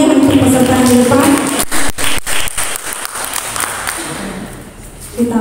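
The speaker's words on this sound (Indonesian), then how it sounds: "Mari beri tepuk tangan yang meriah untuk peserta yang di depan." Audience applause for quiz contestants at a competition, a dense, loud burst of many hands clapping that thins out and fades over several seconds, with a voice heard near the start.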